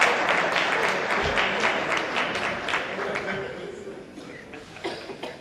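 Workshop audience applause, a sustained patter of many hands that gradually thins out, with some chuckling and murmured voices mixed in and a few stray claps at the close.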